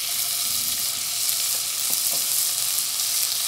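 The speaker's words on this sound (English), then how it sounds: "Stir this 1 or 2 minutes until this beef is no longer pink." Beef frying in sesame oil in a hot pan, a dense, steady hiss of sizzling grease with a few faint clicks, close and uninterrupted, with no one speaking.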